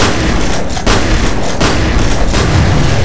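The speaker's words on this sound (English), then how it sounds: "Shotgun." Rapid, loud shotgun blasts and gunfire in a video game, several sharp bursts in quick succession over roughly three seconds with dense continuous noise between them.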